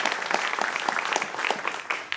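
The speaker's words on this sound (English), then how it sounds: "please let's give them a nice round of applause for having me come here today" A church congregation applauds during a Sunday service, steady close clapping with individual claps standing out, lasting a couple of seconds with little talk over it.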